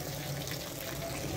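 Water runs steadily from a tap in hot weather, left on so pets can come and drink; a constant close splashing flow with no voices.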